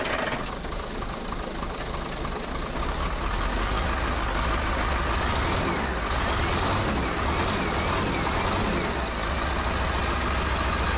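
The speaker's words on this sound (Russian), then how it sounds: "сейчас попробуем еще раз мотор запустим" A heavy engine of a rare Georgian KAZ 4x4 truck runs steadily with a rough, knocking idle and constant low rumble throughout, fairly close.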